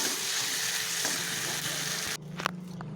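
Meat fries in a pan, a dense, loud sizzling hiss that holds steady for about two seconds, then cuts out abruptly into quieter background with a few faint clinks.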